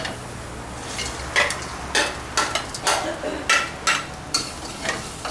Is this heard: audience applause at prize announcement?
no